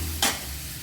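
Tomatoes cooking down in a pan for a dried fish and egg thokku give a quick burst of stirring and sizzle over a low steady background hum, lasting well under a second.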